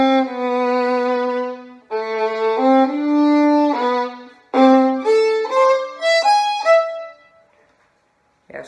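Second violin plays a connected lyrical phrase with full bow strokes and warm vibrato, sustained notes sliding between pitches, loud and close, alone without speech, ending in a fade.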